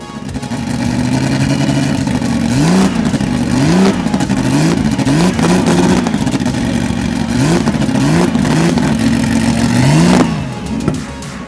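A loud turbocharged Porsche 911 Carrera Turbo racing engine, 450 horsepower at 8,000 RPM, revs repeatedly, the pitch climbing and dropping in quick bursts, with a harsh rasping exhaust note close by.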